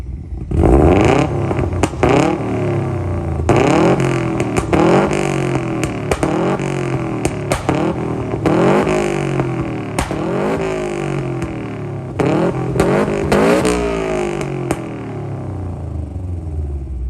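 A Subaru S202 revs repeatedly, its engine climbing and falling in rising sweeps, loud and close, with pops and backfire crackles scattered among the revs.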